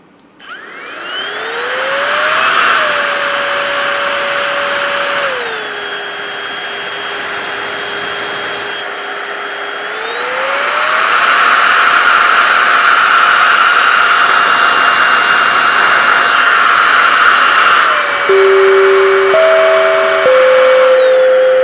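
A Mellif 20V cordless air duster blows loudly and steadily with a high motor whine that steps up and down in speed several times, ending with a few short electronic tones.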